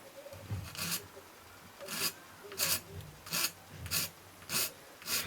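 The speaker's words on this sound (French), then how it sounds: "on va dégrossir avec la lime" A hand file roughs down a plastic part for a Tamiya 1/24 Ford Mustang GT4 model kit, in about seven rhythmic rasping strokes close up, evenly spaced, with no talk.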